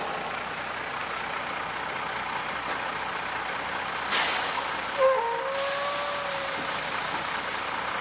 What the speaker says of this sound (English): Peterbilt tow truck.